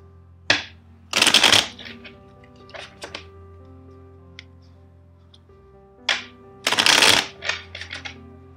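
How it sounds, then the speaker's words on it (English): A tarot deck is shuffled in two loud, brisk riffling bursts, with softer card taps and thumps between them in a quiet room. "First, let's shuffle the deck four times for you."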